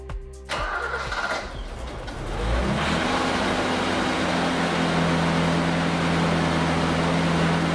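A BMW M20 engine in an E28 cranks briefly, catches and settles into a steady, loud idle, with a rhythmic starter whir giving way to a continuous engine hum.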